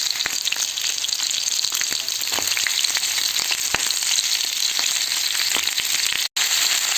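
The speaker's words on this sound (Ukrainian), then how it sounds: "І коли м'ясце набуло такого гарного рум'яного кольору, добре підсмажилося, додаємо сюди цибульку." Pork ribs sizzling steadily in a frying pan as onion is added, a continuous bright crackle with scattered pops and spatters, close and even throughout, with no voices.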